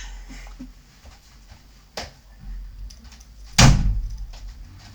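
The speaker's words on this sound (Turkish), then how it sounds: "bir dakika kapıyı kapatıp geliyorum" A door is shut nearby: a small click first, then a solid, loud slam with a short rumbling tail in an otherwise quiet room.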